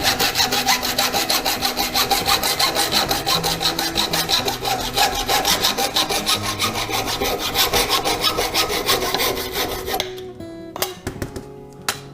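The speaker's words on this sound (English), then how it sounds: "use my trusty old hacksaw here. See if I can get this started." Hacksaw cutting through a carbon fiber bike part, a loud, fast, steady back-and-forth rasp that runs for about ten seconds, then stops into a few light clinks and handling noises.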